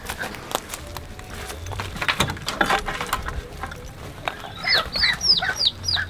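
Chickens cluck and squawk in a burst of overlapping calls, close by, growing louder and busier toward the end, on a permaculture homestead.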